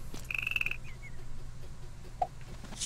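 A frog croaks in the video game Mini Ninjas: a short rapid trill near the start, a couple of faint follow-ups, then a single sharp croak, all over a quiet ambient game background.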